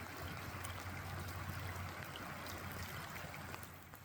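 A river running high with spring snowmelt rushes steadily, a constant broadband flowing and splashing wash heard from nearby with no voices, fading slightly at the end.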